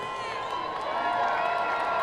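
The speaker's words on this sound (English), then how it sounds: "Yeah, cheer now." Crowd in the stands at a baseball game between the Edmonton Riverhawks and Kamloops NorthPaws cheers and whoops, a steady, swelling roar of many voices that grows slightly louder.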